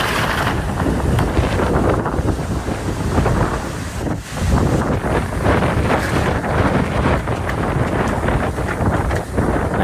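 Strong wind gusts over 85 km/h driving 4 to 5 metre storm waves onto the North Carolina coast, a loud continuous roar of wind buffeting the microphone and crashing surf, no voices.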